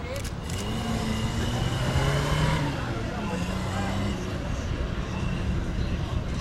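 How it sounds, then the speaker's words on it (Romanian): A Fiat 850 driven on a circuit, its small engine humming steadily at moderate distance with a slight rise in revs, running under continuous commentary. "Chiar acum pe circuit este domnul Călin Popescu Tărceanu la volanul lui Fiat 850"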